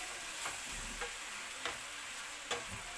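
Food being stirred and mixed in a frying pan, turmeric powder just added to vegetables for a thoran: a steady, quiet sizzle with a few soft scraping strokes of the spoon, no voices.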